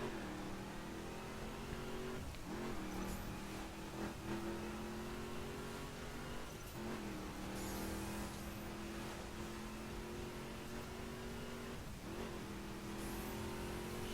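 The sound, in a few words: car driving at high speed in video game The Crew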